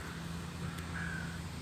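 Crows in a park cawing while being fed bread, a single clear caw rising briefly over a steady low outdoor hum of traffic and wind.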